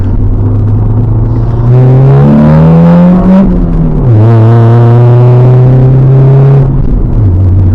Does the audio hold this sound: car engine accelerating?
yes